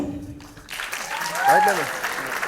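Audience applause for the cast of a stage drama, a brief patter of clapping that swells over a second or so, mixed with a voice speaking over it.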